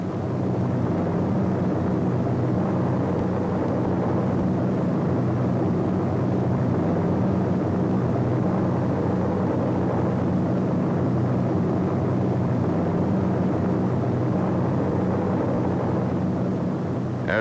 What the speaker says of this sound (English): C-47s, which already have dropped their gliders, pass on their way back to England